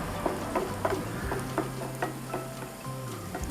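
Curry leaves stirred into green masala chicken frying in a pan, with a steady sizzle under repeated scraping strokes of a spoon against the pan, close and clear.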